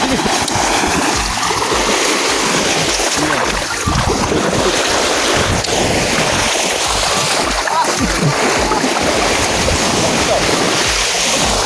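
Ocean waves on Tilalohe beach in Gorontalo wash and roar continuously, with dense broadband surf noise and gusts of wind, loud and close throughout.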